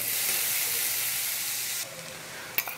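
Steady hot-oil sizzle of food frying toward golden for an egg dish, loud and even at first, then dropping lower with a brief sharp clatter near the end, no voices.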